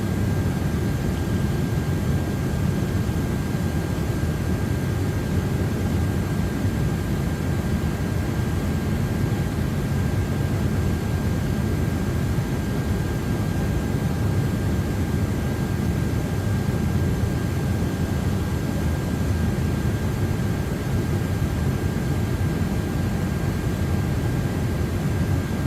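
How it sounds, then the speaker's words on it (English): A large airplane's engines drone steadily in flight inside a flight simulator game, a constant broadband roar with a faint high whine running alone for the whole stretch. "I'm flying a big scary plane"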